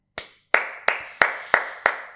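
A single person claps their hands six times at a steady, unhurried pace, each clap sharp and close with a short ringing tail, alone with no talking.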